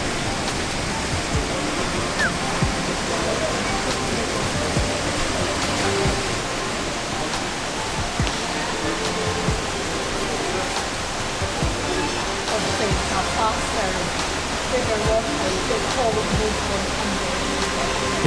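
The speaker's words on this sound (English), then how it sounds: "So we found one waterfall" A waterfall roars as a steady, full wash of rushing water that stays loud and even throughout, with faint voices in the background.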